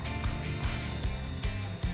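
A bell alarm clock rings continuously with rapid metallic clanging in quick repeated bursts, loud and close, with no talking.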